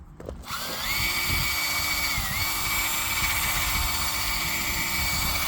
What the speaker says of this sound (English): I'm going to use the drill here.